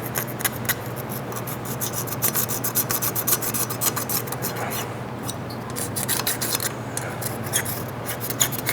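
Old gasket material is scraped off a mud motor in rapid, repeated rasping strokes, close and fairly loud, with a steady low hum underneath.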